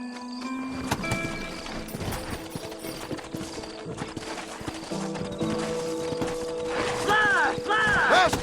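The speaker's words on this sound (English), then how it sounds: "Horses are over here!" Horses clip-clopping in Red Dead Redemption on PS5, hooves beating steadily among game sounds, with voices speaking over them and a horse whinnying near the end.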